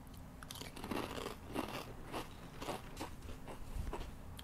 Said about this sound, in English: Nice crunch.